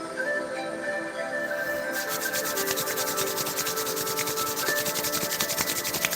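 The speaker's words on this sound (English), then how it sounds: "Rub the palms of your hands." Palms of the hands rubbed together in a brisk, continuous back-and-forth, close and fairly soft, a steady swishing friction with no voice over it.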